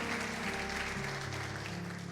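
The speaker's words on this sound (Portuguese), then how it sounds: "Quem crê assim, dê um aplauso ao Senhor com uma alegria" A church congregation applauds during an evening communion service, giving steady, dense clapping that holds evenly throughout with a sustained low musical drone underneath.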